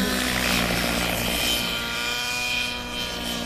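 A radio-controlled model helicopter flies overhead at a large model aircraft gathering, a loud steady rotor and engine drone that fades slightly as it moves off.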